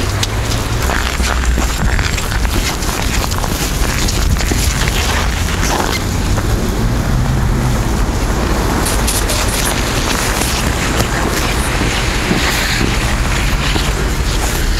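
Loud, constant wind roars across the microphone during a gravel bike ride in -30°C cold, a dense unbroken rush with heavy low-end buffeting and no talk.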